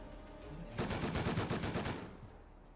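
Rapid automatic gunfire from Rust, a sustained burst of close, loud shots lasting over a second, fading into quieter background game noise.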